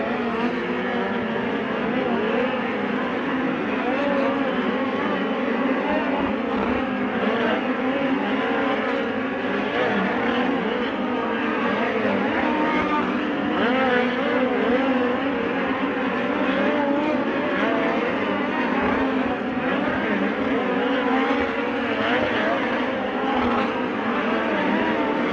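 USAC midget race cars run hot laps on a dirt oval, a dense continuous engine roar with rising and falling revs throughout.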